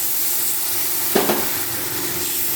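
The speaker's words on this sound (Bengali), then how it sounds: "মশলাটাকে কিছুক্ষণ সময় ধরে কষিয়ে নেবো" Spice paste sizzles in a pan with a steady frying hiss, briefly flaring as it is stirred, with no voices.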